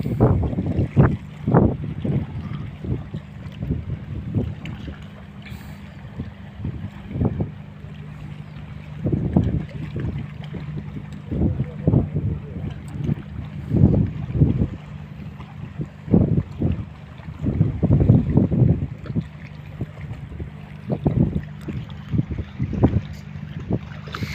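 Steady, gusty wind buffets the microphone, with repeated low rumbling bursts over a constant background roar, recorded outdoors on a river while fishing.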